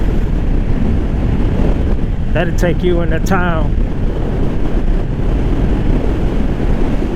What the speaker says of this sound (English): I got that wind facing me.